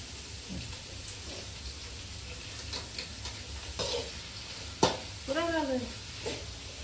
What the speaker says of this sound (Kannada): ಫಸ್ಟ್ ಫ್ರೈ ಮಾಡ್ಕೊ